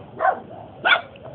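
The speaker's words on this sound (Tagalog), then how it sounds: "Aso po yun." A dog barks twice in quick succession, loud and nearby, the second bark higher and sharper, followed by a faint trailing yelp.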